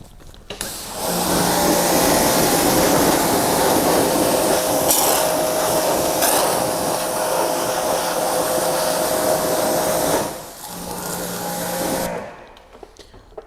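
Pressure washer sprays water onto car wheels, a loud steady hiss with a motor hum that runs nearly unbroken for about ten seconds, dips briefly, then resumes before cutting off.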